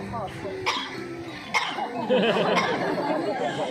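A dog imitating a human cough makes short hacking, cough-like sounds mixed with whimpers while people talk nearby.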